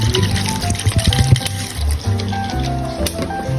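Water splashes and gurgles as bottled mineral water is poured into a soup pot of carrots and beans, close by and fairly loud, with faint clattering in the background.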